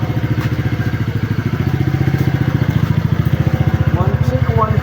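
A TVS Ntorq 125 scooter fitted with an aftermarket pipe fires up and settles into a steady, loud, pulsing idle up close, running continuously with brief talk partly over it.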